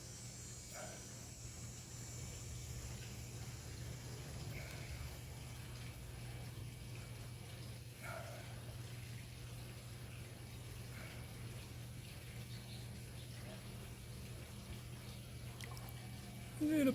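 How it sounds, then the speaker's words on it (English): Water running into a container to refill it while preparing a descaling solution for an Intellichlor IC40 salt cell, a soft steady rushing pour that stays low and even throughout. "now I'm just going to fill the rest back up with water"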